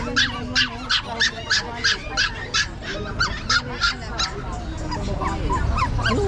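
A husky at the Pasig pet market yelps and whimpers in a fast rhythmic series of sharp high cries, then falls quieter among the busy market background.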